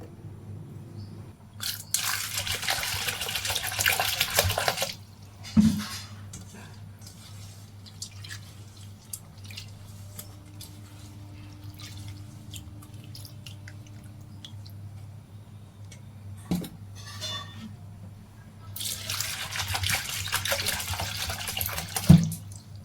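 Tap water runs over arhar dal being washed in a kitchen sink, two bursts of splashing flow bracketing a quieter stretch of drips, squelches and soft handling.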